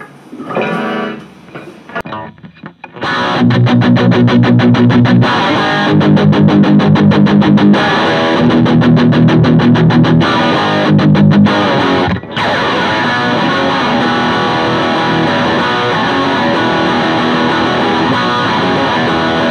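An electric guitar played through a BOSS ST-2 Power Stack distortion pedal into a Roland Jazz Chorus amp rings out in loud, thick distorted chords with rhythmic chugging bursts, then a sustained ringing chord, after a short quiet start.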